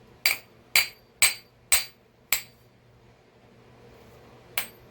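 A mallet or hammer taps a stuck part during the rebuild of a Magnum 52 four-stroke model engine: five sharp, light metallic knocks at an even pace, a pause, then one more tap, all close and clear.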